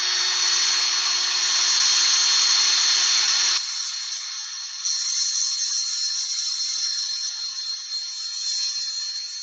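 Power sanding on a turned wooden root ball, a steady high whirring rasp that drops in pitch and loudness midway as pressure eases, continuing alone without talk.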